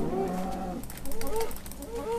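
A Minecraft cow lets out a low, drawn-out moo near the start, followed by a couple of softer, shorter bovine calls against a quiet game background.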